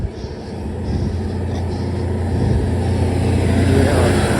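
A big truck rumbles past on a reopened mountain road in Peru, with a low engine roar growing louder and nearer over several seconds.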